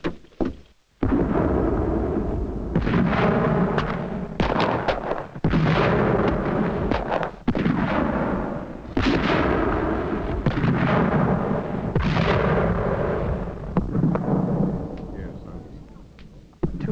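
Cannon fire booms through the siege of a frontier fort, heavy thuds and rumbling blasts rolling one after another for the whole stretch, loud and close with little pause between impacts.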